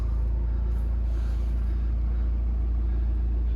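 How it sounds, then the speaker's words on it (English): A Volvo V60 2.0 D3 diesel engine, facelift model, runs with a steady low rumble close by, with no talking heard. "Start the car up."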